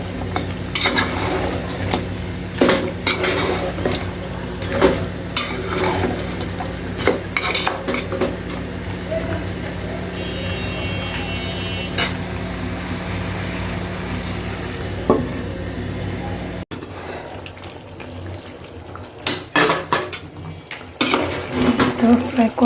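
Goat meat frying in a pot and being stirred. A steady close sizzle runs throughout, with metal clinks and scrapes of the stirring spoon. The sizzle drops quieter near the end while the clatter continues.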